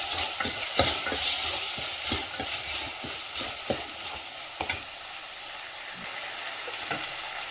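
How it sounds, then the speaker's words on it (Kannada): Tomatoes go into a hot oiled pan with curry leaves for dal methi kadabu, with continuous sizzling and repeated scraping stirs of a spatula against the pan, close up. "ಈಗ ನಾನು 2 ಟೊಮೆಟೊವನ್ನು ಹಾಕ್ತಾಯಿದ್ದೀನಿ"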